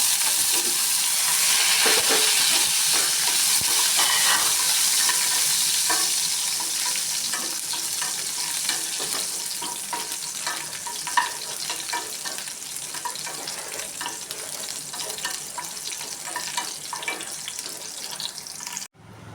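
Garlic frying in hot oil after mustard seeds have spluttered, for a lemon pickle, gives a steady, dense sizzle with scattered crackles and pops, loudest at first and easing slightly as it goes on.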